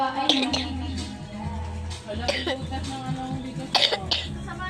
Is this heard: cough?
yes